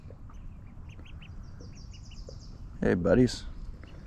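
Ducks by a lake where trout are fished, one giving a close, loud burst of quacks near the end over quiet outdoor ambience, with faint chirps earlier and a person speaking briefly.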